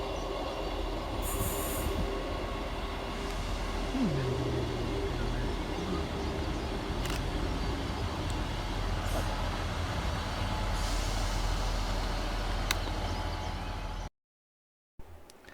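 A ScotRail class 158 diesel multiple unit arrives at North Queensferry station on the Fife Circle. Its steady engine rumble and rolling wheels run loud throughout, with a brief wheel squeal partway through, and the sound cuts off sharply near the end.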